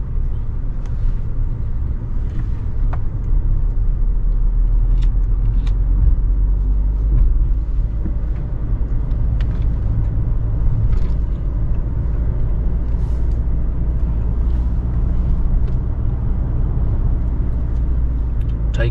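A car descending the steep, hairpin-bending mountain road of Doi Khun Sathan in Nan province, Thailand, heard from inside as a steady, loud low engine and road rumble that continues unbroken, with faint clicks and small knocks over it.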